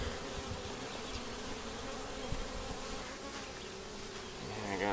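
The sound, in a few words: bees buzzing during hive inspection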